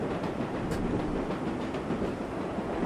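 Subway train running along the track in the video game World of Subways 4, a steady close rumble with faint clickety-clack and no speech over it.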